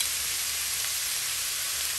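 Eggplant and other vegetables fry in a pan with a steady, close hiss of sizzling oil that holds constant and unbroken throughout, with no voices.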